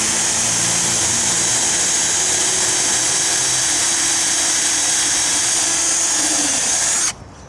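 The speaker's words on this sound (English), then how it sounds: "we gotta pre-drill everything" A power drill pre-drilling holes while a backyard skate ramp is built, running as one loud, steady whine for about seven seconds before it stops abruptly.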